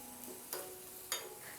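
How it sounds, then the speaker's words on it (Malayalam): Cumin and dried red chillies fry lightly in hot oil with a faint, steady sizzle, broken by two brief sharp crackles. "ഇത് രണ്ടും കൂടി വീണ്ടും ഒന്ന് ലൈറ്റായിട്ടൊന്ന് വറുത്ത് കൊടുക്കുകയാണ്"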